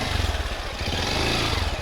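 A Honda XR 190 CT motorcycle engine runs off-road, a close, steady, throbbing rumble with a slight rise in revs and no voices.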